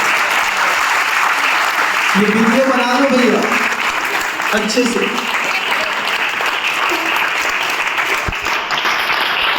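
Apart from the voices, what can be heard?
crowd clapping with raised hands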